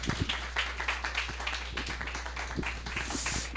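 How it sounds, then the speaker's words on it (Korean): An audience at a company morning session claps to welcome a group leader to the front, with a brisk patter of individual claps over a low steady hum. "설현두 그룹장님을 큰 박수로 모시겠습니다."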